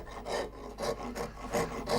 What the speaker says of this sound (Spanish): La escofina es una lima metálica con dientes gruesos y triangulares, utilizada por carpinteros y artesanos de la madera para desbastar las superficies.